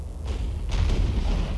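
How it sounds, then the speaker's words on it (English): Cannons fire in the Napoleon: Total War video game, with two deep booms a fraction of a second apart followed by a heavy rumbling roll that carries on to the end without any talk. "Those are cannons."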